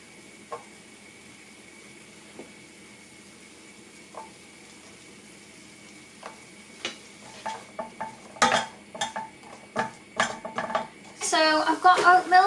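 Chopped celery sizzles quietly in a pan for a vegan leek and mushroom pie filling, with occasional spoon taps at first, then a run of quick scraping stirs and clinks growing louder toward the end.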